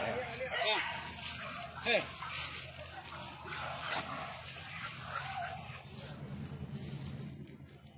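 A few distant dog barks sound under wind buffeting and people talking, faint and sporadic against the rushing outdoor noise.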